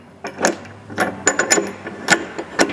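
A Rotopax fuel pack gets set onto a GP Factor mounting bracket on an Ineos Grenadier, giving a series of sharp plastic and metal clacks and knocks, irregular and close, with no talk.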